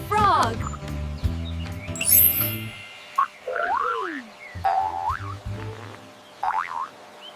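Frog calls begin with rapid bouncy croaks over a low droning backdrop, then give way to scattered chirping, springy calls spaced irregularly, moderately close.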